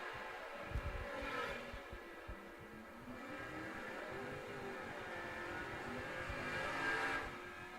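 A Superstock J automatic Firebird drag car launching wheels-up at a Bowling Green outlaw drag race, a loud sustained engine roar heard from a distance across the track, rising again toward the end.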